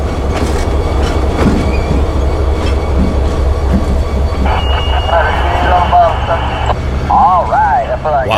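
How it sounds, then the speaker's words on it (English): Railroad cars, including two hoppers, roll slowly with rumbling wheels, a metallic clank of coupling and high wheel squeals over a constant low engine drone. "One last shove back to couple up those 2 hoppers"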